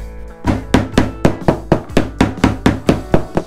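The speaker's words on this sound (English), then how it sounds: "I can hear a low-pitched sound when I hit it with a hammer" A hammer knocks on the wide wooden floorboards of a Japanese engawa veranda, about a dozen evenly spaced, close, hollow thuds in a steady rhythm, sounding out where the joists lie beneath.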